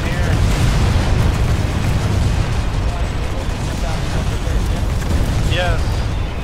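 Enemy gunfire and explosions in Planetside 2, loud booming blasts and shots rolling together in a continuous heavy barrage, close and dense, with voices shouting over the battle.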